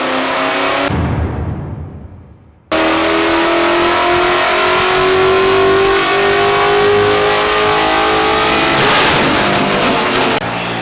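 Stock Mercedes G-Wagon engine revving hard, a loud close roar that drops off, then surges back and holds at high revs with a rising tone before easing down near the end.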